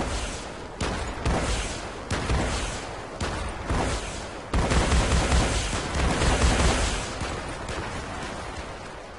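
Weapon fire from a Minecraft mod, heavy booming shots repeating at roughly even intervals, then a denser sustained stretch of firing that fades out near the end, loud and close.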